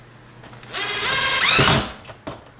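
A power drill drives a screw into a wall stud above an outlet, one short burst of rising motor whine lasting about a second and a half and ending abruptly, close and loud.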